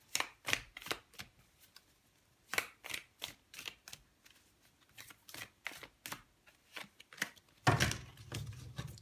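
Tarot cards are shuffled in short, crisp riffling bursts with brief pauses between them, close and fairly quiet, ending in a longer, fuller shuffle.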